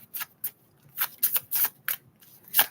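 A series of short, crisp riffling bursts of tarot cards being shuffled, irregularly spaced, close and fairly loud with quiet gaps between.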